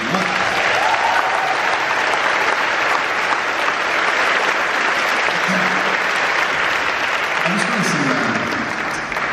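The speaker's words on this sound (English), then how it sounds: "So give them all a round of applause." Loud, sustained audience applause fills Union Chapel in London during an Indoor Garden Party concert, dense clapping and crowd noise holding steady for about nine seconds.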